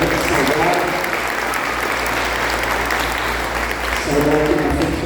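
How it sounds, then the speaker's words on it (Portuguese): A church congregation gives a sustained round of applause for visitors, dense clapping from a large crowd at close range, loud and unbroken, slightly swelling near the end. "uma salva de palmas aos visitantes."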